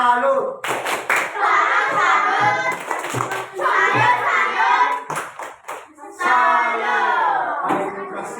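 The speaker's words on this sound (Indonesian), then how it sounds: "kita tepuk salut dulu untuk kelompok Toman" Classroom of children in an Indonesian language lesson clapping a rhythmic salute cheer in unison, loud and close, with chanted voices mixed into the patterned claps.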